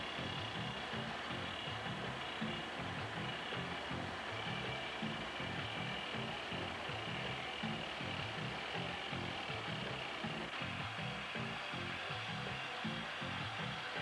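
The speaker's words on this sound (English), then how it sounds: "Then, the slow, closely watched drilling process begins." A rock drill bores blast holes for dynamite at a construction site, its pneumatic hammering beating in a fast, even rhythm under a steady hiss of air, continuous and moderately distant.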